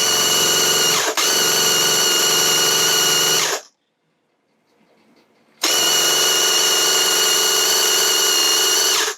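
A Graco Ultra QuickShot airless paint sprayer pumping water during cleaning gives a steady mechanical drone, loud and continuous, cuts out for about two seconds of near silence, then starts up again at the same level.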